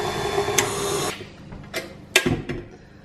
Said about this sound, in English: whisk it again for about 30 seconds till it's combined